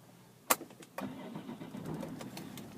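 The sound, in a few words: BMW 530D diesel car engine starting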